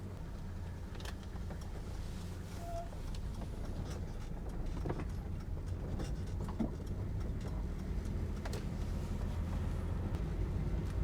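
A 47-year-old car rolls around a roundabout in Australia, heard from inside the cabin as a steady low engine and road rumble with faint rattles and clicks, growing slightly louder toward the end.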